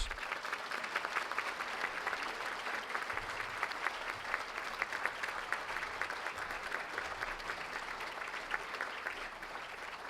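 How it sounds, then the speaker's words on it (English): Sustained audience applause fills a 2018 National Signing Day ceremony honoring recruits, a steady, dense wash of many hands clapping at an even level throughout with no talk over it. "Why don't you give yourself a final round of applause"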